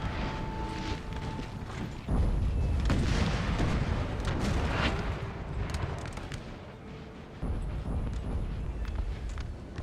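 Artillery fire from five 12-pounder cannons alongside skirmisher musket fire in the video game Napoleon Total War, a heavy, sustained battle din of deep booms and scattered shots, loudest in the middle with rumbling continuing throughout.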